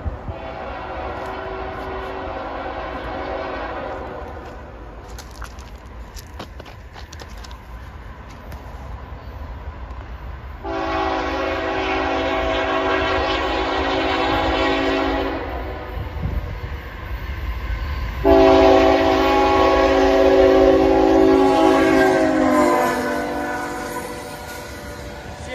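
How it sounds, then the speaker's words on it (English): A CSX freight train led by a C320 locomotive rumbles past in Chapin, South Carolina, its horn blasting in several long, loud, harmonic blows, the last one strongest, over steady rail noise. "Another CSX train."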